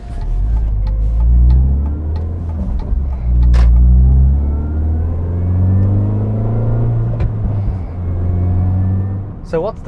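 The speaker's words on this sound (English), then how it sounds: "I think you should hear that supercharger in action." A supercharged Mini Cooper S R53 engine revs up loudly and close, pitch climbing through several gear changes with a deep rumble throughout.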